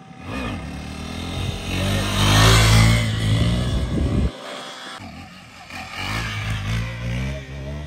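KTM Duke 390 motorcycle revving hard during a wheelie: a loud, rising engine roar that cuts off briefly, then resumes with clattering and scraping, heard close by.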